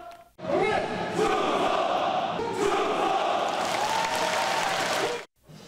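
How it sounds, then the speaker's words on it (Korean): Families and friends on their feet, clapping and cheering as military trainees march in with a military song, a loud, sustained crowd roar with rhythmic chanting that cuts off abruptly near the end. "가족과 친구들은 자리에서 일어나 힘찬 박수로 이들을 맞이합니다"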